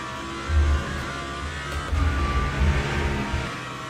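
A GT3 race car engine in the sim racing game Le Mans Ultimate drones steadily at moderate loudness, swelling in a few low surges as revs rise and fall, with no talking.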